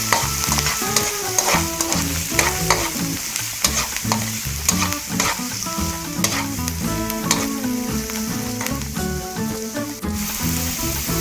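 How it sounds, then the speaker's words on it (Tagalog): Red onion sautéing in hot cooking oil for a Filipino ginataang golden pompano dish, a steady loud sizzle with repeated scraping and clattering as a utensil stirs the pan throughout, no talking. "ngayong mainit na po ang ating mantika ay ilalagay ko na po ang sibuyas na pula"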